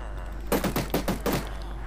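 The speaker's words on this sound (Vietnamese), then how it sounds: "súng có độ giật và súng phải cần có đạn mới bắn được" Gunfire in the CoolGun shooting video game, a rapid string of about five sharp shots close together, loud and clipped over a low steady hum.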